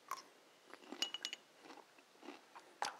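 Homemade chili crunch with ginger being bitten and chewed close to the microphone, giving a short run of crisp, crackly crunches with brief pauses and no talking.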